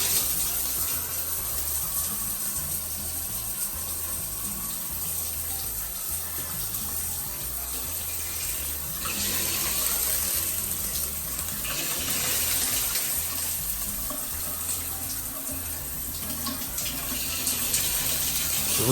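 Steady rushing of hot water pouring from a Moen faucet, continuous and close, with slight surges in the flow and no voices.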